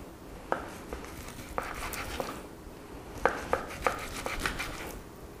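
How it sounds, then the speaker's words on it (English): A knife cuts thin slices of beef against the grain on a board, giving a series of sharp, close taps, some single and some in quick bursts, with quiet pauses in between. "when you slice the meat, you want to figure out which way the grain is going and then slice against it. Nice thin slices."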